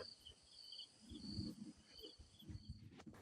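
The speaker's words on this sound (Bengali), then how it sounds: "বাইরে তখন ঝিঝি পোকার ডাক।" Crickets chirp outside at night in a quiet rural setting, a faint, steady high-pitched trilling that runs through the whole stretch with soft low rustling beneath.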